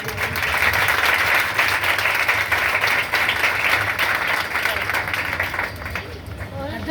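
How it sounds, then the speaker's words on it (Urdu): Loud applause fills a church as the congregation claps vigorously in a dense, sustained roar with crowd murmur mixed in, easing slightly in the last second. "زوردار تالیاں پاک روح کے لیے."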